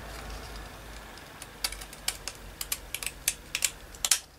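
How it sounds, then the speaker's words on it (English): Scissors snip into an altered paper file folder in a quick series of about a dozen small, crisp cuts, close and quiet, with no voices. "and then I'm just going to snip up there with my scissors"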